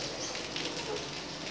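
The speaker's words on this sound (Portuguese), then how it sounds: "Tá chovendo muito" Heavy rain pouring steadily on a cold day, a dense, continuous broadband hiss with no pauses, fairly close and even in loudness.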